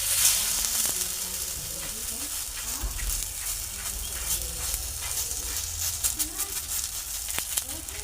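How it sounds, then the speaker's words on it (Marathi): Ghee sizzles steadily on a hot griddle while fasting thalipeeth fries, a continuous close hiss with faint crackles throughout. "मी आता इथे तूप टाकतो."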